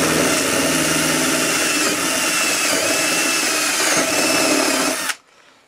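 A power drill runs steadily at high speed for about five seconds, loud and close, then cuts off abruptly, leaving near silence.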